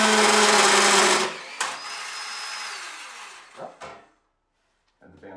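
A bandsaw cutting metal roars loudly for about a second, then cuts out, leaving a thin whine that fades and a few faint clunks near the end.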